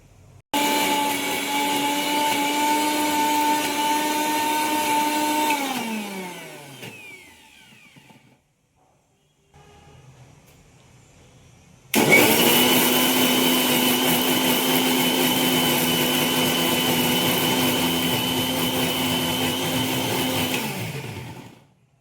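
An electric mixer grinder whirs loudly, blending roasted sesame seeds with a little water into a chutney paste. It runs steadily, spins down into a brief pause, then restarts at full power for a second long run.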